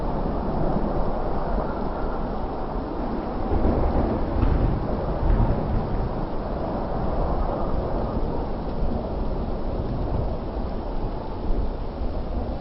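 Thunderstorm with steady heavy rain roar and deep rolling thunder rumbling beneath, loud and continuous with a swell partway through.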